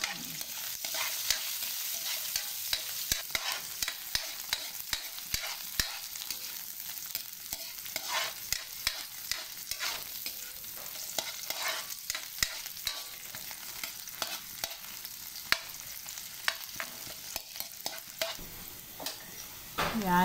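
Ginger, garlic and onion sautéing in a pan, a bright continuous sizzle with frequent rapid spatula taps and scrapes, steady and fairly close.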